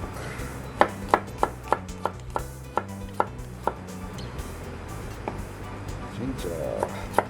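Garlic is chopped with a knife on a board: about a dozen crisp, evenly spaced taps up close, then softer scraping as the rhythm stops.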